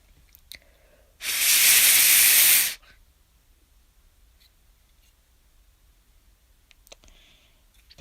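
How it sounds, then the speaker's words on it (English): A jet APU blower fan gives one loud, steady, broadband whoosh lasting about a second and a half, then cuts off, leaving quiet room tone with a few faint clicks. "This is why they call it a blower fan."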